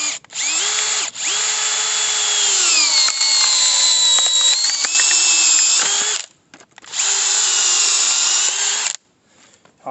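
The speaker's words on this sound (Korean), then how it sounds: "해머 드릴이 훨씬 잘 되네요" A hammer drill driving a firewood-splitting screw bit into a log, its loud high whine running in long bursts, dipping in pitch under load, with short pauses and a brief stop near the end.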